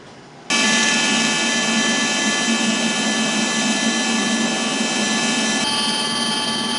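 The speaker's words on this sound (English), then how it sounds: "I'm gonna fully weld it, and then I'll probably go across and weld these bad Larrys up." Welding on the metal body of a 1932 three-window coupe gives a loud, steady, close crackling hiss that starts abruptly after a brief quiet moment and carries on unbroken to the end.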